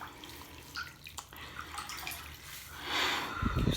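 Hot water sloshing and lapping in a full bathtub, with soft splashes and ripples, growing louder toward the end with a closer swirl.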